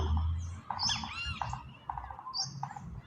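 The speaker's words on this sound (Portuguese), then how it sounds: "Olha o pica-pau." A woodpecker calls outdoors in a series of sharp, bright calls over a low background hum, with no speech.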